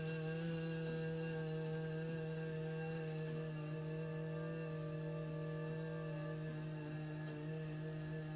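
A low, steady humming buzz held on one pitch, a voice imitating a bee on a long exhale with lips sealed, yoga humming bee breath, faint and even throughout.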